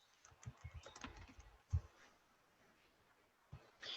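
Quiet keystrokes on a computer keyboard come in short irregular runs of taps, with a couple of sharper presses and pauses between bursts.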